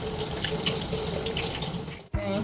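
Tap water runs steadily into a sink while makeup brushes are rinsed, a close hiss that continues until a short gap near the end and then resumes.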